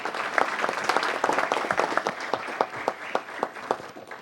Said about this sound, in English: So everyone give them one more round of applause.